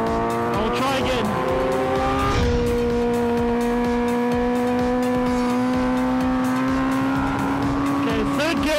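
A Kawasaki H2R motorcycle pulls hard in third gear on a race track, its engine note climbing steadily in a loud, continuous rising whine with wind roar over it.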